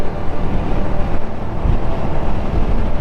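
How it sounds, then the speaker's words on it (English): Strong wind buffets the microphone at an outdoor motorbike riding spot, a loud continuous low rumble with gusty fluctuations and no talk. "It's definitely a bit windy for it."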